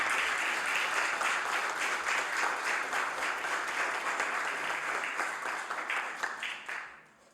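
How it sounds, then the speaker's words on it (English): Warm applause fills a House of Assembly chamber as guests in the gallery stand, a steady crackle of many hands clapping that holds evenly, then fades and thins out in the final second. "They were getting that warm applause before I even asked, Mr. Speaker."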